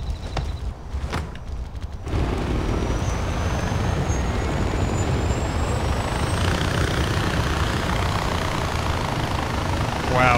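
A Far Cry 4 helicopter starts up after a few seconds of quieter sound, then its loud, steady rotor and engine roar fills the space without letup.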